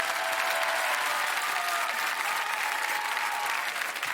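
Dense, loud applause fills a French television concert show honoring an Italian-born singer, a steady wash of many hands clapping at once with no break.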